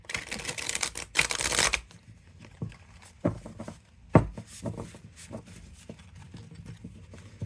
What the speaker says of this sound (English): Let me try to shuffle them.